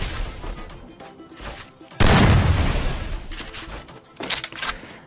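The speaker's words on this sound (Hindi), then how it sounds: "एक गोली के सब्बीर भाई एक गोली मारो, ख़त्म ख़त्म" Gunfire in a mobile battle game, a sharp loud blast followed by scattered bursts and rattling shots, with muffled voices in the background.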